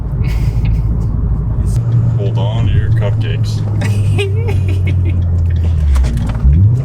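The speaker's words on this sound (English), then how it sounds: "exhaust noise inside the cabin" Inside the cabin of a car fitted with a Magnaflow performance exhaust, a steady low rumble drones while people talk over it.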